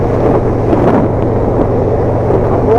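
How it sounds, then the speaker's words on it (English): Strong wind buffets the microphone in a steady, loud low roar with gusty rumbling while riding a motorbike on Kangaroo Island, continuous throughout and with no voices. "It is so windy."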